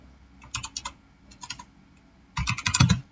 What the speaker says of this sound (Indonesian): pertama kita mengetikkan hashtag input